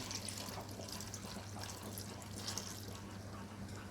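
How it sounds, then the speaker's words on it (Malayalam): Water poured over jackfruit pieces for avial, a soft steady pouring and trickle, fairly faint and close, with no talking. "നമുക്കിതിന് നിരപ്പ് വെള്ളം ഒഴിക്കാം കാരണം ഇത് ചക്ക നല്ലവണ്ണം വെന്ത് ഉടയണം"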